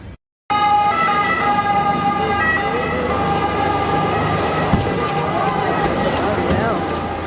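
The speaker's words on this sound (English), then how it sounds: "Now that was a fascinating sight, a water ambulance." A water ambulance siren blares loudly and steadily in Venice, with boat engine rumble underneath, and a voice can be heard speaking over it.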